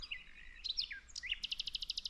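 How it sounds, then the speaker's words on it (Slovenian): Songbirds sing near the Vjosa river in Albania: high, bright chirps and whistled phrases, then a fast, evenly repeated run of sharp notes, fairly close and clear over quiet background. "Evo, ptički pojejo."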